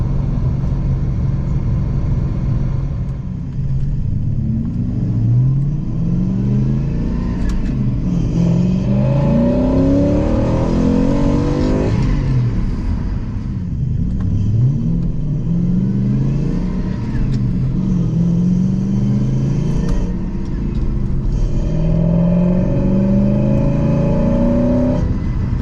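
Engine intake roar played through a car stereo, loud and continuous with repeated rising revving sweeps, like a medium engine accelerating and dropping back, filling the cabin for the whole stretch.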